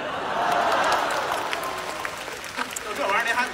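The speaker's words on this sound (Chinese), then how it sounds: "就这玩意儿您还鼓掌呢？" Audience clapping during a live crosstalk comedy show at the Beijing Exhibition venue: a burst of applause from the crowd that swells then fades, with a performer talking over and after it.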